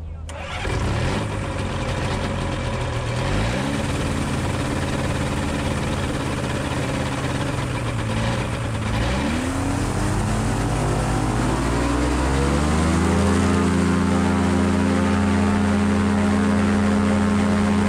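A light propeller aircraft's engine revs up for takeoff, a steady loud drone whose pitch climbs and shifts through several stages, close and continuous for the whole stretch.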